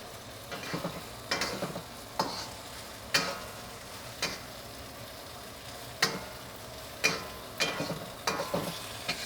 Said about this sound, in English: So I'm just gonna stir it in to combine now